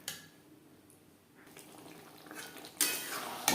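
Potatoes, kohlrabi, spices and sour yogurt are stirred in a pan on a low flame, with soft scraping and clinking of a spoon against metal that grows louder toward the end.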